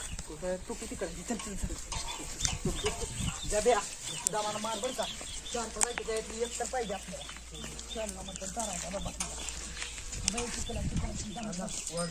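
Chickens cluck and squawk repeatedly nearby while people talk over them, the bird calls rising and falling throughout.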